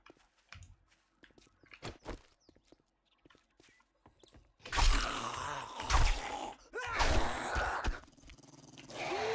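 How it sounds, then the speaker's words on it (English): A hostile dog in the survival video game 7 Days to Die lets out loud, rough growls and snarls in several close bursts, following a quieter stretch of clicks and footsteps. "And here comes the dog."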